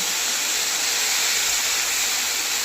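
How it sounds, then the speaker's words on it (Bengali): Beans, carrot and cauliflower sizzle in a pan for vegetable dal, a steady loud broadband hiss of frying that holds unbroken throughout. "এখন আমি এখানে ভেজ ডালটা করব বলে সবজিগুলো ভেজে নিচ্ছি"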